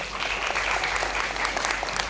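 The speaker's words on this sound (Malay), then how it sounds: "berikan tepukan." A seminar audience in a hall applauds with steady, dense clapping that stays even and fairly loud throughout, with no talking over it.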